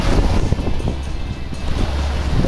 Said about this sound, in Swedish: idag är det blåsigt